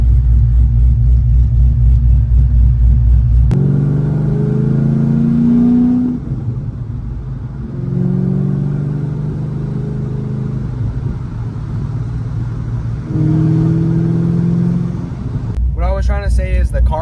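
Cammed C5 Corvette V8 fitted with a Halltech cold air intake, loud and close, with a choppy idle that rises and falls through several revs and throttle blips.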